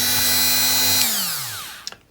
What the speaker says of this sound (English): What I've got is a little grinding wheel on a Dremel, and we've got to grind out these 4 rivets.